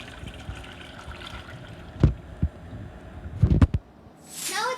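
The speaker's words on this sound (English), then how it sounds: "we are going to be adding all the rasam into the cooker and then pouring it back" Rasam pours into a pressure cooker with a soft liquid trickle and slosh, punctuated by a few sharp metallic knocks of the vessel near the end.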